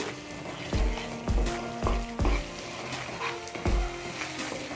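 Misal spices roasting in oil in a pan on the stove, a close steady sizzle broken by regular scraping stirs roughly every half second.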